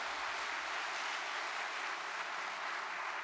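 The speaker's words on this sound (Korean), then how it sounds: "천심 성가대에 여러분 큰 박수 한번 보내주셨으면 감사하겠습니다" A congregation applauds a church choir after its hymn, with steady, even clapping from a crowd filling the hall for the whole stretch and no voices over it.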